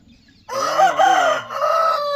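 A free-range country rooster crows loudly and close, one long strained cock-a-doodle-doo rising after a moment of near silence.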